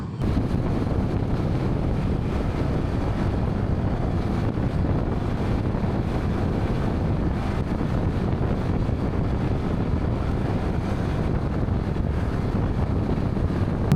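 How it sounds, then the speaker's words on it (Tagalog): Strong mountain wind roars continuously against the microphone for the whole stretch, a dense, buffeting rumble with no other sounds coming through. "Uy, mahangin na."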